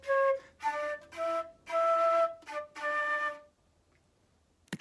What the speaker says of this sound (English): The flute player could be playing one line that sounds like this.